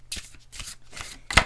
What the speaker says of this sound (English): So I'm just going to shuffle these cards.